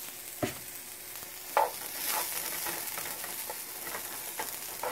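Whole grain brown rice cooking on low heat in a pan, a soft continuous sizzle with a couple of scraping stirs and knocks, close and fairly quiet with no talking.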